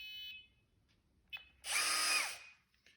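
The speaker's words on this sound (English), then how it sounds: "And it's beeping at me." A Metabo Powermaxx 12V drill/driver emits a short high-pitched electronic beep, then a quiet pause, a brief click, and the motor whirring up loudly for about a second before winding down.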